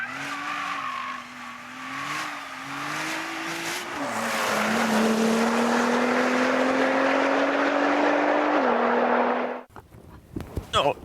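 A Nissan Juke-R with GT-R mechanicals and drivetrain revs hard while being driven, its engine note rising and falling alongside long tire squeal before cutting off abruptly.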